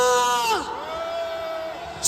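A rally crowd at an anti-impeachment protest outside the Corruption Investigation Office shouts and cheers together, a loud, dense roar of voices filling the short moment, with a sustained yell over it.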